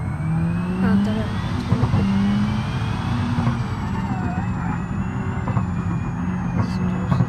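A Volkswagen Golf 7R stage 3 accelerating in the BeamNG Drive driving game, its engine note rising and shifting under continuous talk, with tyre noise and faint siren-like tones.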